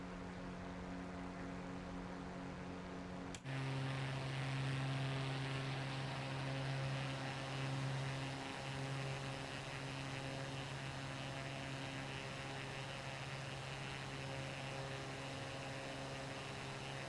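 A Huey helicopter in Microsoft Flight Simulator 2024 starts with a sudden click, then settles into a steady, low, faint rotor and turbine drone that holds unchanged to the end.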